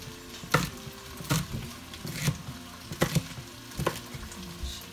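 Coarsely chopped green beans stir-fried in a hot pan, a constant sizzle broken every second or so by louder scraping stirs of the spatula, close and with no talk.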